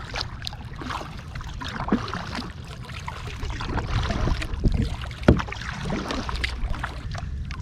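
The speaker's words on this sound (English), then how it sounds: "I want to paddle, and that's exactly what I'm doing" A kayak glides on Hunter Creek as paddle strokes dip and splash in a loose rhythm, close and moderately loud, over rushing water and gusts of wind.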